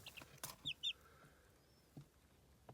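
Ten mixed one-month-old village chicks give a few faint, short high cheeps, heard close but softly over quiet rustling.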